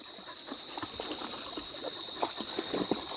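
Creek water trickling and splashing softly on a bushwalk, the stream running fairly full; a steady faint wash with small irregular gurgles, heard alone with no talk.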